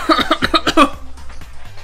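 Several sharp coughing bursts in quick succession, close and loud, fading into quieter breathy noise at the end.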